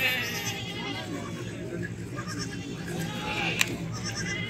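A desi-breed goat bleats on a Pakistani goat farm, wavering cries rising over a background of people talking nearby.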